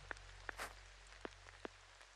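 Rain falls in the Day R Survival video game: scattered, distinct droplet taps over a quiet, steady background hum.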